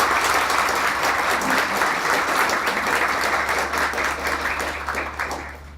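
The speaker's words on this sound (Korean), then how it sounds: "박수로 함께 시작을 하도록 하겠습니다." An audience at a Korea University farewell lecture and retirement commemoration ceremony bursts into loud, sustained applause, dense clapping that holds steady for several seconds before starting to fade at the end.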